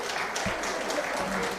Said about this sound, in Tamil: இதற்கும் ஜோரா கைதட்டுங்க.